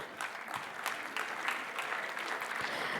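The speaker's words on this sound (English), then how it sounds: "A huge round of applause to Rupa, ma'am" Applause from an audience at a women's award ceremony as IPS officer Rupa Madigal comes on stage; steady, fairly faint clapping from a distant crowd, with no voices over it.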